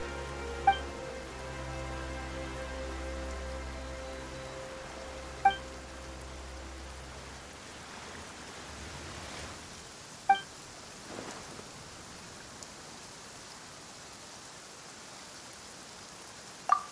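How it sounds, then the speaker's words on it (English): Rain patters steadily in the Genshin Impact video game, a soft, even wash under low tonal game music, with a few sharp chime-like blips scattered through. "Why is it raining all of a sudden?"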